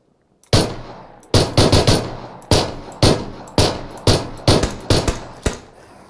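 Nine sharp pistol shots ring out in PUBG, spaced unevenly with short pauses, each a loud crack with a quick decaying tail, close and alone without talk.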